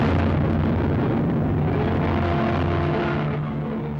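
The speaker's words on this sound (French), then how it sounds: "une terrible explosion se produit à l'arrière du dirigeable." Archival film of the Hindenburg airship exploding at its tail near the mooring mast: a loud, sustained roaring rumble of blast and fire, dense and unbroken, that slowly fades toward the end.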